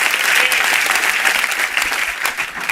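Church congregation breaking into loud applause, dense overlapping clapping that stays strong and close throughout the short stretch with no voices over it.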